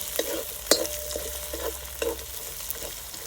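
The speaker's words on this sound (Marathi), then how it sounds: "हे छानपैकी परतून घ्यायचे शेंगदाणे सुद्धा मस्त तेलावून घेतील खरपूस" Peanuts and thecha, a crushed chilli paste, fry in hot oil on a wood-fired stove. A steady close sizzle runs under repeated spatula scrapes and clatters, with no talking.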